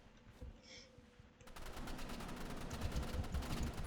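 Sustained automatic gunfire in a video game, a long rapid burst starting sharply partway through and continuing loud and dense to the end, preceded by quieter game sounds.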